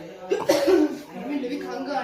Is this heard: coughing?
yes